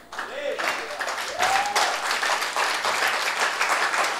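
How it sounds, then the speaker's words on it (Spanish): Congregation applauding in a church service, a dense, steady wash of clapping that fills the whole stretch, with a brief voice and a rising tone near the start. "No aplauda."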